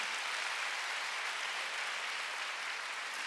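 Steady applause from a church congregation at a Sunday worship service, a dense even wash of clapping that holds at a constant level throughout, with no voices on top.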